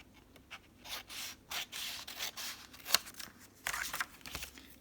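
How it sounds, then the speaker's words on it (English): Scissors trimming excess paper while making small journal pockets, a series of soft close snips and rustles with one sharper cut near the middle, quiet and close, no talk. "I'm going to trim off this excess here."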